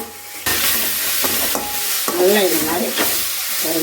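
Tomatoes sautéing with salt in a pan for a baby jackfruit kuruma, loud close sizzling with rhythmic scraping stir strokes across the pan bottom, no speech.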